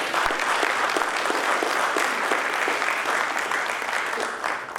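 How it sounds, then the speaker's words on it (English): An audience at a Pacific Update conference closing session applauds representatives of the National University of Timor-Leste, a sustained, even burst of clapping from a sizeable crowd that fades slightly at the end. "So let's give a round of applause for reps from National."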